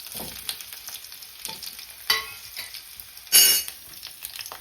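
Cut potatoes and drumstick pieces go into a hot pan and are stirred, with a soft sizzle under scattered scraping strokes and a couple of louder clattering stirs, close by and without talk.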